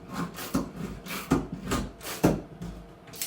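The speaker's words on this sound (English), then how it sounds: "Putting all these 31 screws back in." Screws being driven back into oak deck boards, wood creaking and rasping in a series of uneven strokes with sharper bursts, close and moderately loud, no talking.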